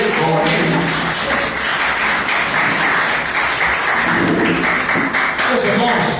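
A church congregation claps during a worship service, loud and continuous, blended with voices and general crowd noise throughout.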